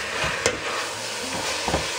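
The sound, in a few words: minced meat frying in a pan, being stirred and broken up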